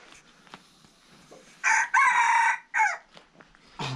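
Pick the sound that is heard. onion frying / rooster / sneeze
rooster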